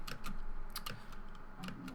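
Computer keyboard keys clatter while Guild Wars 2 is played during a Wintersday jump puzzle, a run of irregular clicks and taps, fairly close and moderately quiet, with no talking.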